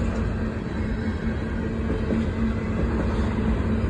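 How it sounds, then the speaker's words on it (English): A long CSX freight train rolls past a road crossing, including coil cars and trash cars. A dense, steady rumble of wheels and cars holds close and loud from start to finish with no talking. "This is actually a very long train."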